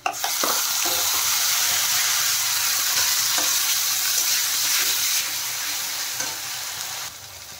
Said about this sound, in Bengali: মিক্সির জার ধুয়ে জল দিয়ে দিলাম